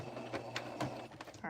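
A domestic sewing machine backstitching, sounding as a string of short mechanical whirring bursts and needle clatter at close range, with brief speech over it.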